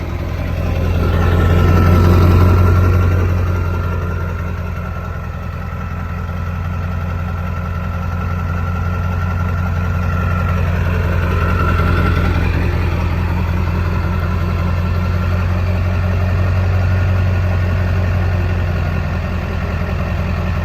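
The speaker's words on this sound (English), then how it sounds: "She starts up perfectly fine." A 4X4 crew cab Ford F-350 dually with the 7.3L PowerStroke diesel idles steadily and close by, a deep even rumble with a low throbbing hum that swells slightly now and then, with no talking.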